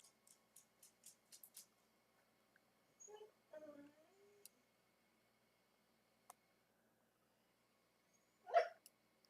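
Dog barking indoors while a game is played, a few short sharp barks spread across the scene with quiet gaps, plus a louder yelp near the end, all fairly faint.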